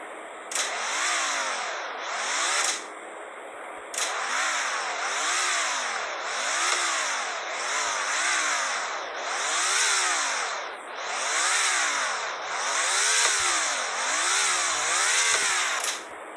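A Chevrolet Camaro NASCAR oval race car engine in the Car Dealership Tycoon video game revs repeatedly, about a dozen loud rising-and-falling bursts in a steady rhythm, close and continuous with no talking.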